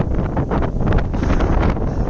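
Strong gusting wind on a mountain in Sri Lanka roars loudly and continuously across the microphone, a dense buffeting rush with no voices.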